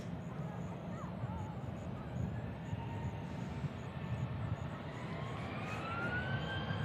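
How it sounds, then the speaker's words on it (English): Southwest airliner taking off at Nashville International Airport, a continuous broad engine roar with a slowly rising whine, heard from a distance with steady rumble throughout. "I believe we're here in Southwest takeoff now, headed to Houston"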